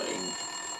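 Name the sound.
office telephone ringing in Max Payne 2 video game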